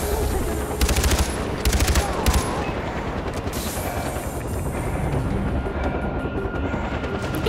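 Attack helicopter in the video game Far Cry 4 firing in loud, rapid bursts of machine-gun fire over a constant rotor drone, with the shots easing off toward the end.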